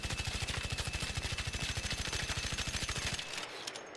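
Sustained automatic rifle fire in the video game Arc Raiders, a rapid, even burst of about thirty close, loud shots in steady rhythm over three seconds, then cutting off into a short fading tail.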